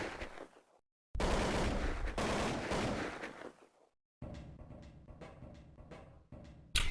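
Desert Eagle pistol shots in Counter-Strike on the de_nuke map during a competitive match, with a loud burst of gunfire followed by a string of sharp, separate shots.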